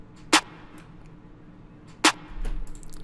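A layered rim, snare and clap hit programmed in FL Studio for a guitar trap beat, sounding twice about two seconds apart as sharp, loud cracks over a faint low hum.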